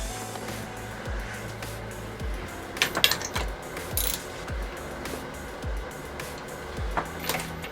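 A hand ratchet tightens a new spark plug on a Ninja 500 motorcycle, making a series of quiet, evenly spaced clicks with a few sharper metallic knocks.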